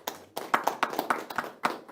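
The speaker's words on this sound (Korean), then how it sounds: "큰 박수로 맞아주시기 바랍니다" Scattered hand clapping from a seminar audience at a Korean construction and housing forum, welcoming a university professor; a dozen or so distinct claps in an uneven rhythm, sparse rather than a full ovation, starting after a brief quiet moment.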